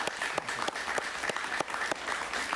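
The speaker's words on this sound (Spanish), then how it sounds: "Un aplauso para Eliezer Ávila," A studio audience at a Miami television talk show applauds steadily for Cuban engineer and dissident guest Eliécer Ávila. The dense, even clapping fills the whole stretch with no voices on top.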